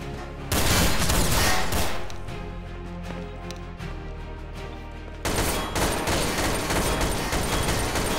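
Gunfire in a Garry's Mod DarkRP game: a loud fusillade of rapid shots starts abruptly, eases into steady firing, then surges again near the end, with no talking.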